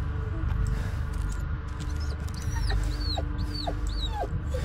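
A dog whimpers in the horror video game Blair Witch, several short high-pitched whines over a steady low ambient rumble.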